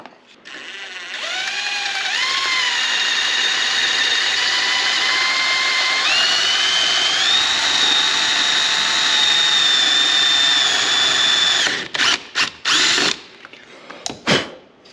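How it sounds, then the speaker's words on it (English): A power drill whines steadily for about ten seconds while drilling a hole in a Yamaha YFZ-50 ATV for a light install, its pitch climbing as it bores through, then stops with a few short bursts. "bottom corner, drill a hole."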